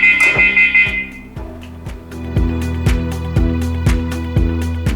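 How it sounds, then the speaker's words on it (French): A HEXAKEY 18 electronic key cabinet sounds its door-open alarm, a loud repeating electronic beep with a steady, regular rhythm, pulsing roughly twice per second close by after a brief higher tone at the start. "Au bout d'un certain moment, une alarme va se déclencher."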